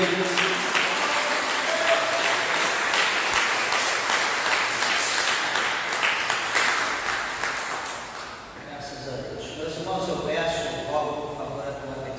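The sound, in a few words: church congregation applause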